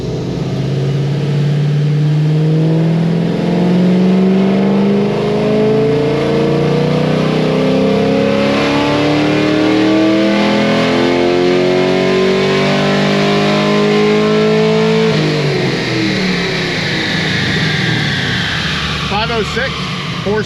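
A 600-horsepower naturally aspirated LS3 Camaro pulls hard, its engine note climbing steadily in a loud rising howl. Around three-quarters through it drops abruptly, then trails off with a fainter rumble.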